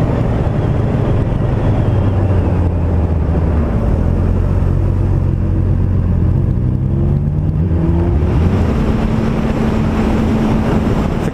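A Honda CBR 600F motorcycle with the original exhaust tip revs steadily, a deep continuous engine drone swelling and easing with throttle, close and loud with no talking.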